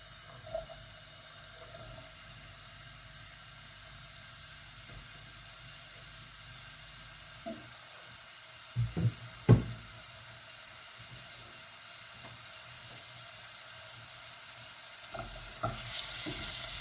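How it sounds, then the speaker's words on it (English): Venison chilli simmers quietly in a pan, giving a faint, steady sizzle and hiss. Several soft knocks and scrapes from stirring stand out briefly near the middle. "incorporate all the other ingredients, mix it in well, and just leave it to simmer for 20 to 30 minutes"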